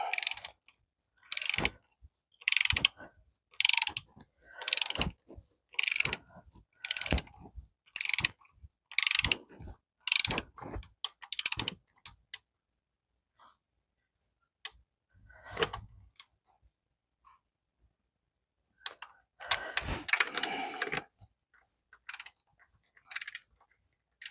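Someone works a ratchet wrench on the front bolts of a 1950 Farmall Cub tractor, making about ten crisp, close bursts of rapid clicking, then a quiet pause with faint handling noises, then a few more ratchet strokes.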